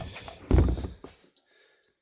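A laser level beeps while self-levelling, sounding as two sustained high-pitched electronic tones about a second each, separated by a brief gap, with a person talking over the first tone.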